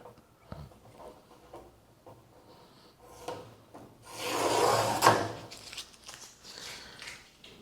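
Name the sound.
tape being peeled off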